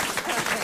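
A studio audience claps at a comedy show, a short burst of dense applause heard close and loud, with a voice briefly mixed in.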